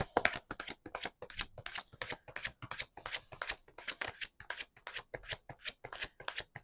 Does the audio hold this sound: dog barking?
no